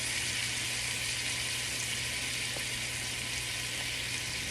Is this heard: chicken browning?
yes